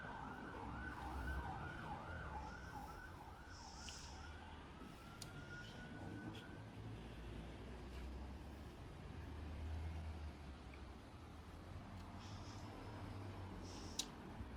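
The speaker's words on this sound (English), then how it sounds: "That siren going, I hope they aren't coming here." A wailing emergency vehicle siren sounds in the distance outside an abandoned pub in Longport, its rising and falling tone faint against steady ambient background noise.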